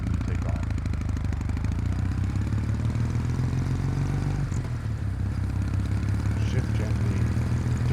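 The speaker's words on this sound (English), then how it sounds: "instead of sitting here and then just, revving it, you just gently take off." Kawasaki W800 motorcycle engine pulling away gently at low revs, a steady loud mid-low thrum with a slight shift in pitch midway, continuous and close throughout with no voices over it.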